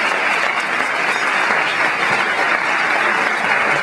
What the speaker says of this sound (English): maybe you can just join me with a little applause for Michelle